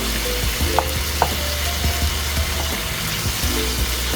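An eggplant omelette made with hot and spicy tuna fries in a pan, with steady loud sizzling and crackling, close up and continuous, with occasional light scrapes.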